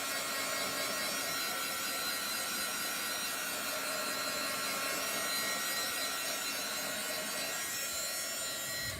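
A heat tool drying chalk paste on a surface gives off a steady, loud, close blowing whoosh that holds unchanged throughout, with no talking.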